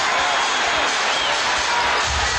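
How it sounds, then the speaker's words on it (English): Sellout basketball crowd at a Washington Wizards home game, a steady broadband roar of cheering filling the arena throughout, loud and continuous with no single voice standing out. "Sellout crowd, and they love it."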